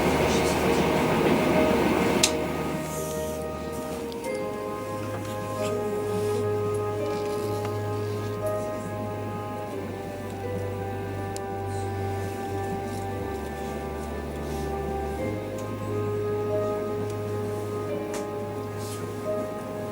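A Norwegian passenger train on the Andalsnes-Bjorli railway slows down, a continuous rumbling run with shifting low drones and some squealing tones, heard from on board at moderate level.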